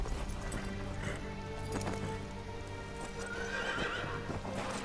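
A horse in the video game Ghost of Tsushima neighs and gallops, rapid hoofbeats clip-clopping under a loud whinny, set against dense game ambience.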